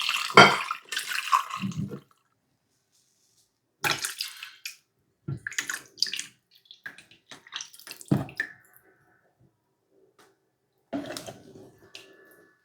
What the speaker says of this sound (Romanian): Voi mai pune încă puțină apă, să treacă puțin peste ei și voi pune la fiert.